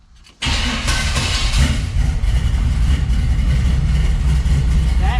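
A car engine fitted with a Holley Sniper EFI kit cranks briefly and catches after sitting for months, then settles into a loud, steady, rumbling idle close by.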